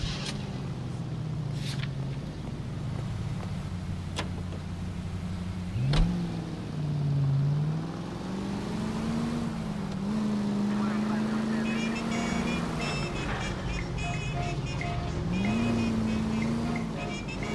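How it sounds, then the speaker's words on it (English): A car in the video game L.A. Noire hums along with a steady mid-pitched engine drone that rises and dips as it accelerates and shifts, the motor sound running continuously throughout. "Get in the car, Biggs."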